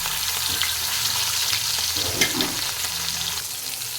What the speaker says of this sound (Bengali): লবণ হলুদ দিয়ে মেখে রাখা মাছগুলো ভেজে নেব